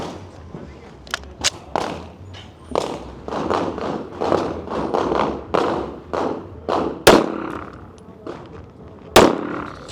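Staccato HD P4.5 2011-style pistol firing close by: a few sharp cracks, with two especially loud, abrupt reports late in the clip over quieter thuds and pops, while people talk in between.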